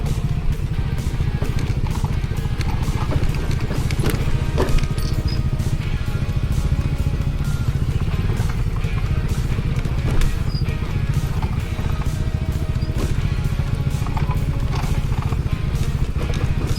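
Yamaha Fazzio scooter riding a rough dirt trail at a campsite in Norzagaray, Bulacan, its engine a steady low drone with constant rattling and clattering from the bumpy ground throughout.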